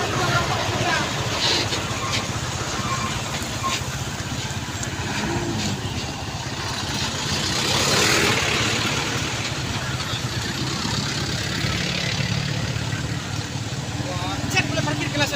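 Big trucks idle in a long traffic jam on an Indonesian road where an overturned trailer truck is being recovered, giving a steady low engine rumble throughout, with a slight swell near the middle and someone talking over it.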